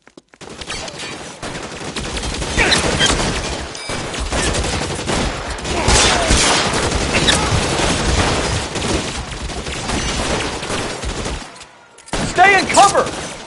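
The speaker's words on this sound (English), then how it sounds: "Suppressing fire!" Suppressing gunfire in the video game L.A. Noire: dense, sustained bursts of automatic fire and repeated shots crackle loudly and continuously, briefly cut out near the end, with shouted voices mixed in.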